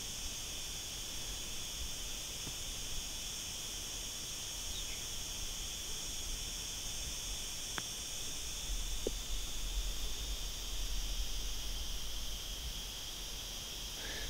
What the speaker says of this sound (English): The noise is back as well. I know, amazing these crickets.